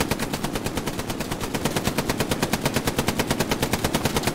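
Sustained automatic machine gun fire in the Hell Let Loose World War II shooter game, a rapid, evenly spaced stream of loud, close shots that keeps going without a break.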